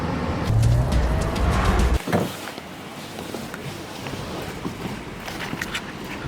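Land Rover Defender 130 on a test drive, a steady broadband road and engine rumble that drops abruptly after two seconds to a quieter continuous drone with faint ticks, fairly close.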